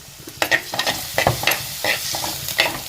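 Onion, garlic, ginger and green chilli sizzle steadily in a pan for a fish chilli curry, with spoon-stirring scrapes and clatters breaking through a close, continuous frying hiss. No voices.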